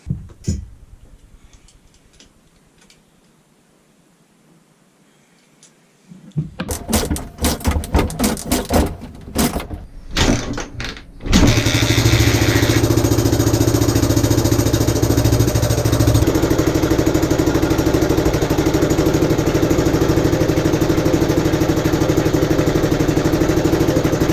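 A Suzuki DR125 motorcycle engine sputters and ticks quietly, then catches and runs loudly at a steady, rough idle close by; it stalls when given throttle.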